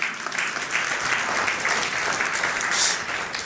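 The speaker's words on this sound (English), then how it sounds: "Let's give them a warm round of applause." An audience at a satellite launch event gives guests a round of applause, a steady, even wash of clapping at moderate volume that lasts the whole stretch with no speech over it.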